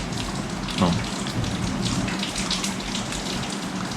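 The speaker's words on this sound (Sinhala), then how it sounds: "වැස්ස පෑවුවා" Steady rain falls in a dense, even hiss with scattered drops tapping nearby, continuing without a break.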